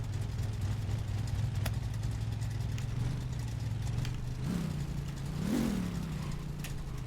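A car engine idles steadily up close, with a couple of brief revs that rise and fall before settling back to a low, even rumble.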